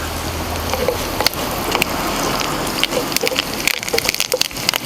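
Curry leaves dropped into hot oil on a medium flame while frying for a tomato chutney, giving a dense, steady crackling sizzle with sharp pops scattered throughout, close and fairly loud.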